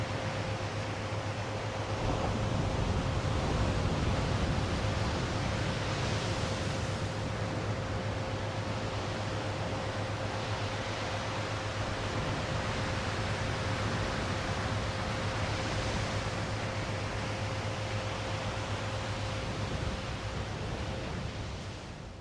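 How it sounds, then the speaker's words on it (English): A grounding frequency recording plays a continuous, broad, ocean-like rushing noise with slow, gentle swells in loudness and a faint steady hum beneath it, heard alone. "That sounds like the ocean right now."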